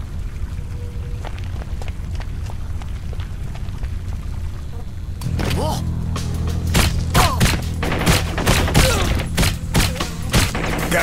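Rapid gunfire from the video game Blue Estate, starting faint and muffled, then after about five seconds bursting into dense, loud volleys of shots with a steady low rumble underneath.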